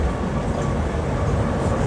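The Howrah Express pulls away from the station, a steady loud rumble of railcars rolling past nearby with continuous low-pitched rail noise.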